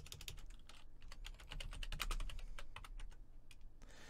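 A computer keyboard clatters with quick, irregular keystrokes while Minecraft is being played, soft, close clicks in bursts with brief pauses, no talking.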